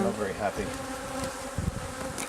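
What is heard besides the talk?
swarm of honey bees flying around the hive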